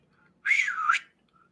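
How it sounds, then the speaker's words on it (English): A person attempts to whistle, producing one short clear note that bends up and then back down, standing alone in a quiet room for about half a second. "Okay, I can't whistle."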